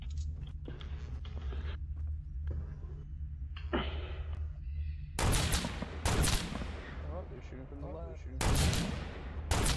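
Gunfire in a squad-based video game comes as loud, sharp bursts of several rapid shots at irregular intervals, with quieter clicks and thuds between them.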